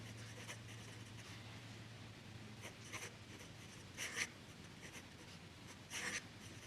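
A Sailor fountain pen with a fine-medium nib writing in Manyo Konagi ink, giving close, quiet nib scratches on paper in short strokes with pauses over a faint low hum.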